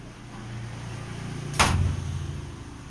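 An impulse magnetizer discharges at up to 1500 volts to recharge the magnet of a vintage Altec speaker, giving a single loud, abrupt thud with a short burst of noise over a steady low electrical hum.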